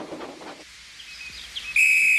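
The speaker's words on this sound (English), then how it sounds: "Oh, that's my conductor's whistle." A conductor's whistle blasts loud and shrill for a sustained half second, right after a brief hiss of steam and quiet station background from a children's railway story.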